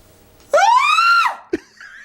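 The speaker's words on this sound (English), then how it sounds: "That's more of a scream." A person screams one loud, sustained high note in full voice, rising and held for under a second before cutting off, followed by a short vocal sound.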